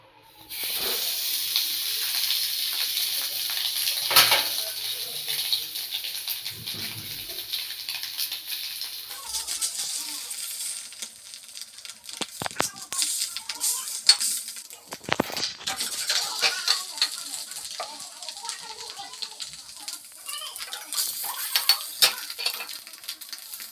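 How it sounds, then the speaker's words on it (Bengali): Homemade chhena pieces sizzle in a lightly oiled hot pan, with a steady bright hiss that runs throughout and occasional scrapes and clinks of a utensil stirring, with no talk. "গরম হয়ে গেছে আর হালকা তেল দিয়ে করে নিয়েছি এবারে ছানাটাকে একটু ভেজে নেব"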